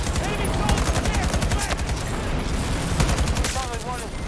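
Automatic weapon fire in the Battlefield 2042 video game, a dense continuous stream of rapid shots with explosions and battle noise underneath, loud and unbroken throughout.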